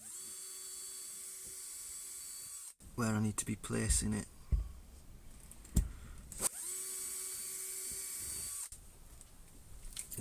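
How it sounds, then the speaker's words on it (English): Tiny drill bit boring pilot holes in wood on a model railway baseboard, two steady high-pitched whines of several seconds each, close and loud, with someone talking in the gap between them. "get a tiny drill bit and just drill pilot holes"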